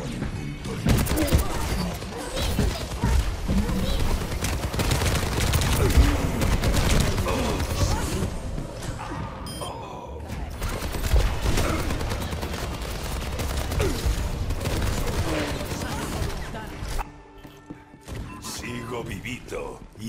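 Soldier 76's rifle in Overwatch 2 firing in long rapid bursts, loud and close, with crashes and impacts mixed in and brief pauses, under game voice lines in Spanish.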